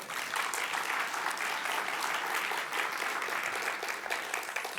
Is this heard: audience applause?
yes